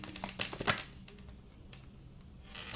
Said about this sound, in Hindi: let me get some cards from these decks as well